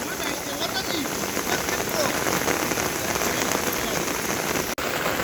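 Heavy monsoon rain falls steadily on a surface at a fishing spot, a dense continuous hiss and patter with no pauses, close and enveloping.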